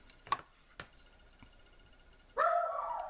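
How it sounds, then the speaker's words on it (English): A miniature schnauzer gives a few sharp, spaced barks, then a longer, louder bark or howl near the end, close by in a quiet room. "you can listen to my miniature schnauzer warning people"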